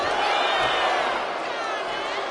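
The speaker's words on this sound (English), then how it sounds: "And Omos is revving this crowd up" Video game crowd in WWE 2K25 cheering continuously in a wrestling arena, a broad steady roar with no pauses.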